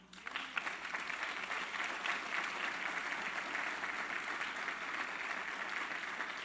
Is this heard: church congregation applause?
yes